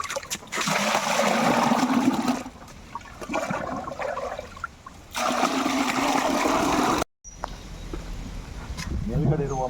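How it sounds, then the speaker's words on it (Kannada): Liquid jeevamrutha fertilizer is poured onto jasmine plants in bursts of gushing, splashing liquid separated by short pauses, with a voice speaking quietly between the pours. "ಕೆಳಗಡೆ ಇರುವ ಗಿಡಕ್ಕೆ ಜೀವಮೃತವನ್ನು ಹಾಕ್ತೇನೆ"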